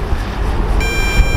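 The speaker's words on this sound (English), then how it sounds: "now we're having long beeps" An MJX Bugs 2W drone flying outdoors in strong wind gives steady, high low-battery electronic beeping tones continuously over a broad, rumbling wind-like noise.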